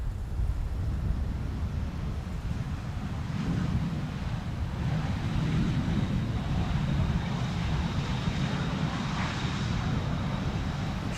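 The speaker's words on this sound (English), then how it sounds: "Next is SAS CRJ arriving from Stockholm" SAS CRJ regional jet arriving from Stockholm on approach at Schiphol in strong crosswind, a low, distant engine rumble mixed with gusty wind noise, steady and fairly faint, no voices.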